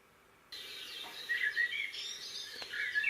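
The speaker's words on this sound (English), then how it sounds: "I added some sound effects of nice New Zealand birds, morning, in the garden" New Zealand garden birds in the morning chirp and trill in bright overlapping calls against a faint steady background, starting abruptly after half a second and continuing throughout.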